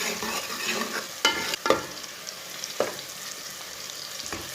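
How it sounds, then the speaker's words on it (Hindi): Chopped garlic and onion fry over medium heat until browned, giving a steady close sizzle with occasional sharp scrapes and clacks of a spoon stirring in the pan, and no talking. "लहसुन और प्याज को मीडियम आंच पर ब्राउन कर लेना"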